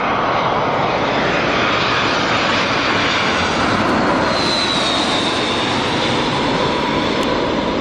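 A loud jet airplane roars continuously overhead at Newcastle Airport, a dense steady rumble with a faint rising whine, filling the whole span without letup.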